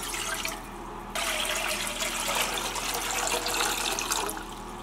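Water runs and splashes steadily into a cooking pot being filled for boiling, a continuous hissing pour that grows slightly fuller partway through.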